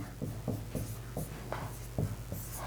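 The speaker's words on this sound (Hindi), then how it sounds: "इधर लिखता हूं, अली," Marker or chalk writing on a board during a general-knowledge lesson, a series of short scratchy strokes in an irregular rhythm, close and fairly quiet over a steady low hum.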